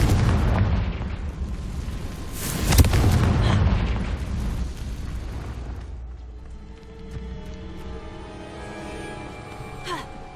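Casting the Confringo fire spell in the video game Hogwarts Legacy sets off a loud, close explosive blast, followed by a long decaying rumble with fainter crackles.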